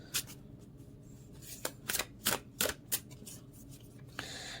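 Large tarot-style playing cards being shuffled by hand close up, with a cluster of sharp papery riffles and slaps in quick succession, fairly quiet, without talk.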